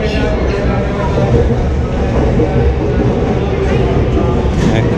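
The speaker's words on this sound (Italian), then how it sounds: "Questa è la metro." Inside a moving metro train in China: a loud, constant rumble and rattle of the carriage on the tracks, with voices heard faintly beneath the noise.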